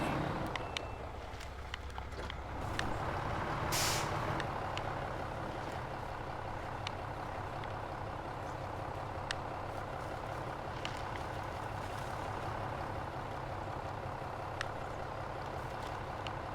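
A heavy truck in a snowy driving video game holds a steady, loud engine drone, with one sharp air brake hiss bursting out early and a few faint clicks over the continuous rumble.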